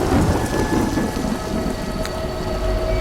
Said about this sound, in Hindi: बादल के गरजने की आवाज़ को सुन रही हैं